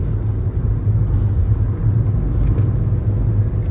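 A car travels along the Samruddhi highway over potholes, giving a loud, continuous low rumble of road and engine noise with no let-up.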